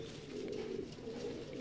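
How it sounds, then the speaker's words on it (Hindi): Madrasi pigeons coo softly in a low, continuous throaty murmur, close but fairly quiet. "सारे सारे मद्रासी कबूतर हैं भाई"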